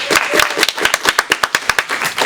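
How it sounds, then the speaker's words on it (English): A small audience at a community conversation event claps for a guest, with distinct individual handclaps in a loose, uneven rhythm, close and fairly loud over a short burst. "A round of applause for Joleen."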